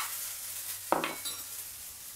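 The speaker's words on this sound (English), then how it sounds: "It's a nice sizzling. Right, now we're going to go in with the ginger." Ginger going into a hot pan for rogan josh, giving a sudden close sizzle with a brief stir and clatter of utensil on the pan over steady frying hiss.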